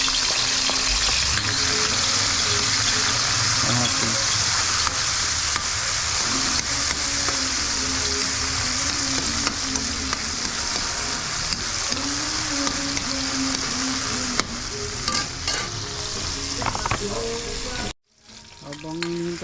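Ginger and tomatoes sautéing in a pan for Filipino pakbet, a loud, steady close sizzle with occasional stirring clinks, cutting off abruptly near the end.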